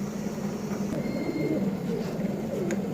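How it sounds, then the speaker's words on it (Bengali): Silver homer pigeons coo softly in a low, steady murmur, with a faint background hum and no clear speech. "অনেক সুন্দর একটা মাদি কবুতর"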